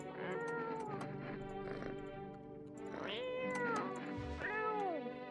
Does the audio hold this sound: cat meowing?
yes